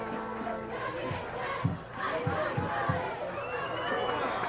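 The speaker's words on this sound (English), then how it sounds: "The crowd very festive right now, as starting to celebrate just a little bit early here" A festive crowd at a 1982 high school football game between Westlake and Thousand Oaks in California keeps up a steady roar of cheering and chatter, with a few sharp thumps punctuating the dense babble.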